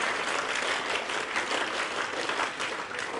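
A university audience at a management workshop claps together in a sustained, moderately loud wave of applause, even and continuous with no talking over it.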